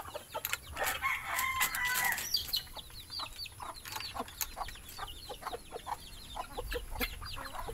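Rhode Island Red chickens in a farmyard, a rooster crowing near the start followed by scattered clucks and pecking sounds throughout, moderately close with no talk.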